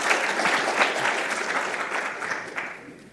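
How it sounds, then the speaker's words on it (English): An audience at a Python programming talk breaks into applause following a speaker introduction, a thick burst of clapping that is strongest at the start and slowly thins and fades toward the end. "A round of applause."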